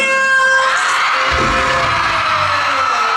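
A voice imitates a cat, giving a drawn-out, whiny meow that rises then fades, loud and close, with no other talk.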